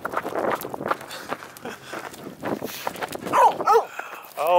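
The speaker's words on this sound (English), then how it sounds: "these big hunting dogs, and they're just giving Champ a run for his money" Big hunting dogs run about nearby with scuffling, rapid footfalls and panting, followed by a few short whimpers and yelps toward the end.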